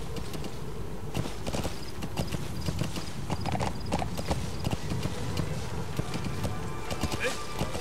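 Hoofbeats of a galloping horse in the video game Metal Gear Solid V, a quick, steady clip-clop rhythm close up, with game sounds in the background.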